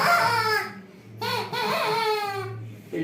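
A handmade bird whistle blown with the hands held in one fixed position, imitating a rooster's crow, gives repeated rising and falling harmonic calls, loud and close, with brief gaps between them.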